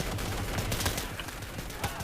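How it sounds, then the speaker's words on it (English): Bursts of BAR automatic rifle fire in the World War II shooter Day of Infamy, a steady dense crackle of rapid shots with game battle noise around it, no talking. "And that is a BAR, by the sounds of it."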